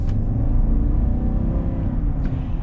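Steady, close rumbling idle of a 2022 GMC Sierra 1500 AT4's 6.2-litre V8, a low continuous engine drone with slight fluctuations and no talking.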